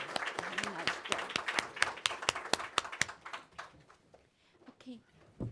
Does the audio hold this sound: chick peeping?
no